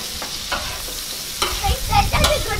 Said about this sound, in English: Just gonna give that a little sizzle up before I take that off.